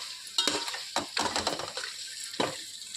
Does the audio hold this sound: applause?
no